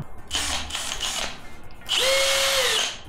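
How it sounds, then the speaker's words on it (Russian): A cordless screwdriver drives screws while a desk is assembled: two short whirring bursts, then a longer, louder run with a steady motor whine, close up and with no talking. "Шуруповер!"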